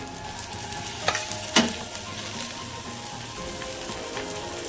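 Thalipeeth fries in oil on a griddle with a steady crackling sizzle, a few sharper pops and spatters standing out, close up and without talk.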